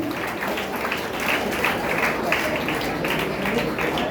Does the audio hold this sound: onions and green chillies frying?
no